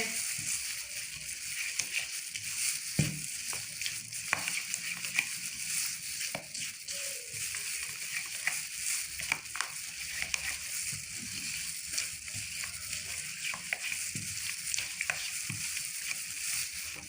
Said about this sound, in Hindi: इनको अच्छे से मिक्स कर लेंगे